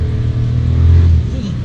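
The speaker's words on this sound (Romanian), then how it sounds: "o trecem pe manual, schimbăm a doua, a treia, a patra și cutia schimbă destul de rapid" A VW Polo R-Line accelerates with a droning engine note that rises, then dips briefly as the automatic gearbox shifts quickly in manual mode; a person talks over the steady engine sound inside the cabin.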